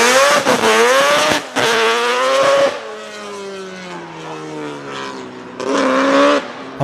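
A tuned Mazda 13B rotary engine revs hard in several rising and falling bursts. Between the sharp high-pitched blasts it drops into a lower, smoother drone, and the sound is close and loud.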